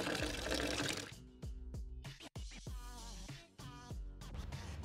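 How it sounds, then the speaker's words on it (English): Water runs from the drawbar tap of a camper trailer while its pump is on, a faint trickling flow broken by clunks and handling noises and brief pauses. "So we've got our pump on now, and we'll turn on the water on the drawbar."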